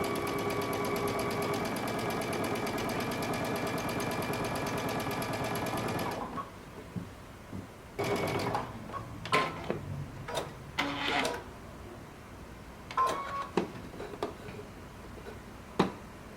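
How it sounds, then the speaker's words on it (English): A sewing machine stitches a DIY cape in one continuous, even run for about six seconds, followed by quieter clicks and fabric handling sounds, nearby with no voices. "We're going to turn it over and we're going to sew, starting again at the center back"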